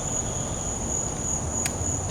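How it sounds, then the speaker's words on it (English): A dense, steady chorus of night frogs trills on and on at a constant level, with no voices, heard from inside a workshop. "If you hear a lot of frogs, you're just going to have to deal with it"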